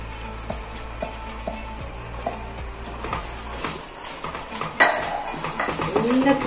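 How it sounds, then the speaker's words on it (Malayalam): A spoon knocks and scrapes against a pan while macaroni for mac and cheese is mixed with sauce: a run of distinct clinks and taps, then busier stirring and scraping over a faint sizzle, close by. "ഇനി നമുക്ക് ഇത് മിക്സ് ആക്കി കൊടുക്കാം."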